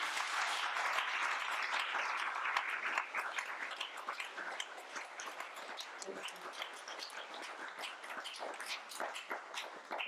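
An audience applauds volunteers at an event, dense clapping from many hands at a moderate distance that thins slightly as it goes on, with no talking over it.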